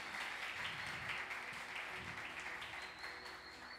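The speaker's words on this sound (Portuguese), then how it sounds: "Vamos dar uma salva de palmas para eles" A church congregation applauds a newly married couple at a wedding, steady clapping filling the room throughout, with a few voices faintly mixed in.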